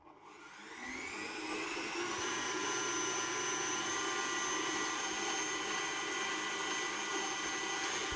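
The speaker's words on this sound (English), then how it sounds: "So once you've got that, then we just put it on the mixer and then just close that down. And we want to put it to a medium to high speed" A stand mixer beats cake batter for a rainbow cake at medium-high speed, a loud, steady whirring motor hum that ramps up in the first second and then holds constant with a bright whine.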